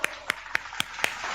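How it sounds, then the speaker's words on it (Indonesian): A few separate hand claps from a church congregation, spaced at a steady rhythm about a quarter second apart, fairly quiet over a soft room background with no talking. "Ya Tuhan, tepuk tangan dong."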